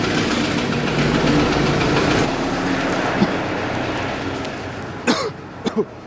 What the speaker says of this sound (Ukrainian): Це був досить такий тяжкий запуск дизельного двигуна.